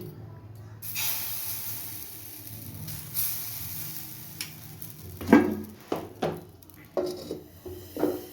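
Rice batter ladled onto an oiled, smoking-hot clay pan for sora pitha gives a soft hiss and sizzle, followed by several close, sharp clinks and scrapes of utensils against the pan.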